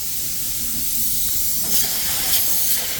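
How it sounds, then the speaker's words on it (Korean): Water-based soft polyurethane foam insulation sprays inside a school gymnasium with a steel frame, a steady loud hiss with a few brief bursts, no voices. "수성 연질폼으로 안쪽에서는 약 200T 정도 두께, 튀어나온 곳에서는 100T 정도 두께로 전체 단열 작업을 하고 있는 모습입니다"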